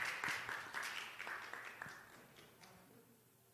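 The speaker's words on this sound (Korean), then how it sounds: "큰 박수 주시기 바랍니다." Applause at a church youth retreat, a soft, fairly distant patter of many hands that starts moderately and fades away over a few seconds, alone without talk.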